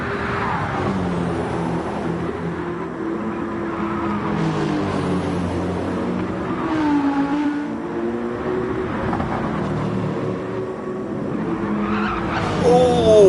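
Race car tyres squeal and skid through the mini carousel during the Nürburgring 24 Hours race. Engines roar loudly and continuously under the long, wavering tyre screeches, and a sharper squeal rises at the end.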